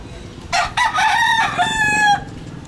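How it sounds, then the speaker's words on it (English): A rooster crows in Cebu City, Philippines, giving one loud, close cock-a-doodle-doo that starts with short bursts and ends in a long drawn-out call over a quiet urban background. "even in the city, you cannot get away from the chickens"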